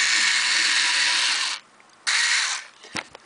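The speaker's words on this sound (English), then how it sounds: "Got my handy electric screwdriver." An inexpensive handheld electric screwdriver drives a screw during furniture assembly, a loud steady whir for about a second and a half, a pause, a shorter second burst, then faint clicks as it tightens.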